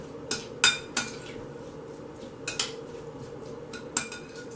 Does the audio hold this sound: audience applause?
no